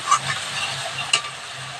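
Spice masala sizzles in a pan and a utensil scrapes and stirs through it at close range, with a couple of sharper clinks over the steady frying hiss.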